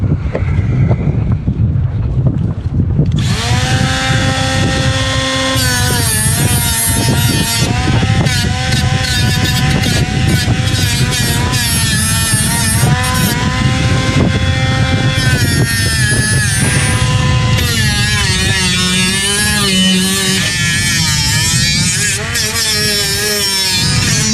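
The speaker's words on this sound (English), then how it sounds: "I'm going to round them off with the little grinder." A small handheld grinder cuts into the sharp corners of a solar panel aboard a sailboat, a loud, close, high-pitched whine that starts after a few seconds and holds steady with wavering pitch.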